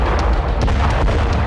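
An artillery shell blast sets off tons of gunpowder at a forest weapons depot, a loud, sustained roaring rumble with crackling bursts and pops layered over it, with no talk.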